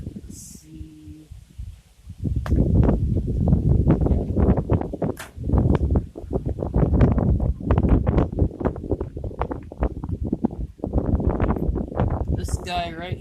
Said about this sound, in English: Sorry about this wind. It's crazy all day today.